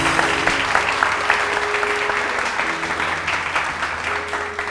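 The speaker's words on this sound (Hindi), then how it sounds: "उनके लिए बहुत सारी तालियां बजाएं" Steady studio audience applause for guests on a Hindi-language TV morning show, a dense, continuous wash of many hands clapping at moderate volume throughout, with faint tonal background music underneath.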